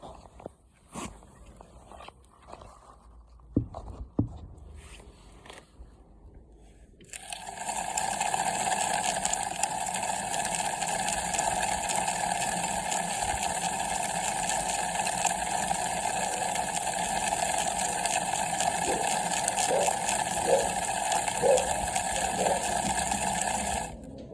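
A bicycle chain running through a Barbieri Onride Clean chain washer as the pedals are turned, giving a steady whirring, ticking drone that starts partway through and continues, after a few faint handling knocks and clicks.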